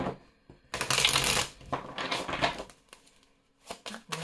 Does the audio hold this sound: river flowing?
no